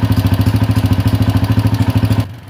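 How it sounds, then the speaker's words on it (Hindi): A Honda 125 motorcycle engine idles close up with a steady, fast, pulsing beat and a clattery tappet rattle running through it, then cuts off abruptly near the end. "और ये छड़ छड़ की आवाज़ इंजन से आती है"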